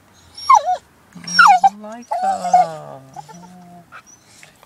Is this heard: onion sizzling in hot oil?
no